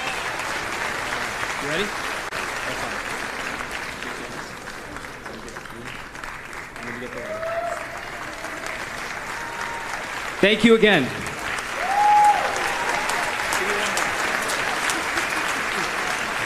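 A graduation audience at a 2024 high school ceremony claps steadily and fills the hall with dense applause, while a speaker's voice briefly cuts in over the crowd near the end.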